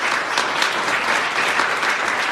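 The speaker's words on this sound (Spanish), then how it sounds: "Da un aplauso al Señor" A church congregation claps together in steady, dense applause that holds at an even loudness for a couple of seconds, with no voice heard over it.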